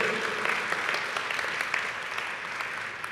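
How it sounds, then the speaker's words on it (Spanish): Applause from a church congregation during a Spanish-language sermon, a steady wash of many hands clapping at moderate distance that holds evenly for about three seconds. "No, si van a aplaudir, aplaudan."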